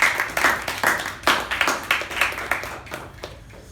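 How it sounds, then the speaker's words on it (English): A meeting audience gives the Sergeant at Arms a round of applause: close, fairly loud clapping from a small group in rhythmic bursts that thin out toward the end. "can we have a huge round of applause for the Sergeant at Arms?"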